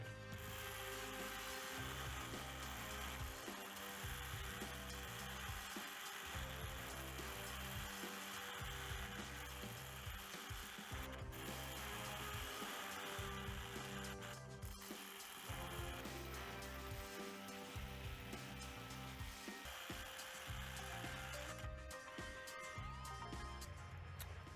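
A drill bores into rock in repeated short bursts with brief pauses between them, giving a rhythmic chattering grind that stays fairly quiet and even, with no speech.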